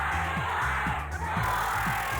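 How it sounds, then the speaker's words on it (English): An excited concert crowd in a video game roars as a continuous, loud wash of massed voices, with a low rhythmic thump pulsing beneath it. "The crowd's excited, but it's all under control."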